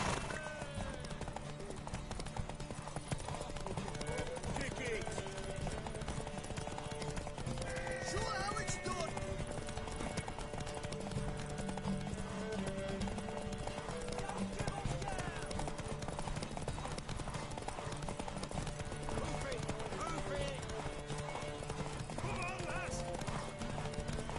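Horse hooves clip-clop steadily through a busy soundscape in The Witcher 3, with music and occasional whinnies, while voices talk over it.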